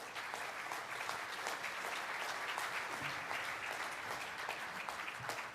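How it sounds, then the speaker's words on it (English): A conference audience at the Land Forces Pacific (LANPAC) 2026 event gives a panel a sustained round of applause, full and continuous clapping from a large hall. "give the panel a great round of applause"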